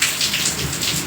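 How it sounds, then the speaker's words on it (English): Heavy rain pouring down hard, a dense, loud, continuous hiss of drops striking surfaces, with no voices over it. "It rains very hard."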